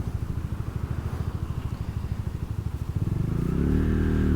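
A Venom 250cc motorcycle engine idles with a rapid, even putter, then rises into a smoother, louder drone near the end; no voices.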